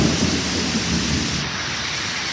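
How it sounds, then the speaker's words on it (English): Heavy rain pours during Storm Debby with deep thunder rumbling underneath, a loud, continuous roar of rainfall that stays even throughout, with no voices. "That is rain, thunder, lightning, crash, waves."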